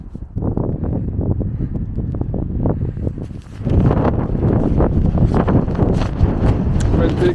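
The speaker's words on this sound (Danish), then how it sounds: "Men det er koldt og koldt og blæser." Cold, gusty wind buffets the microphone outdoors during a walk pushing a bicycle, a steady roaring rumble that grows louder and rougher halfway through, with rustling mixed in.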